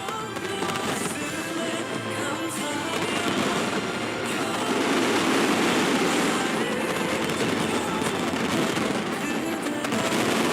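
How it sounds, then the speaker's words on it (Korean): Fireworks display over Yeouido in Seoul, a dense continuous rumble of bursts and crackling that carries on for about ten seconds and grows a little louder midway, with no speech. "우리 옆 동네 여의도에서 진행되었던 아마 불꽃놀이 현장이지 않을까 싶습니다."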